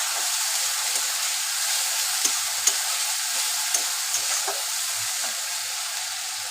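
Spice masala for mutton kosha sautés in a pan, a steady hissing sizzle with occasional clicks and scrapes of a spatula stirring, close and even, with no one speaking.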